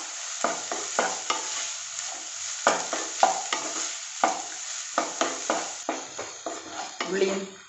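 Onion, ginger and garlic paste frying in a pan for mushroom Chettinad masala: a steady sizzle under a rhythmic series of scraping stirs, close and fairly loud.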